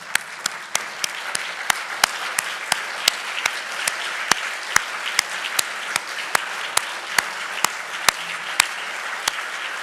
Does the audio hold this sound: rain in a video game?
no